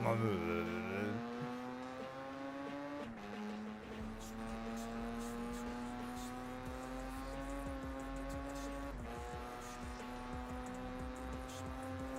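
A Mazda RX-8's rotary engine drones steadily in a racing game, a loud sustained whine that climbs in pitch, drops abruptly at gear shifts near three and nine seconds, then rises again.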